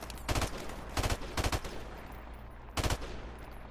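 Machine gun fire in a video game, several short rapid bursts separated by pauses, loud and close with no talking.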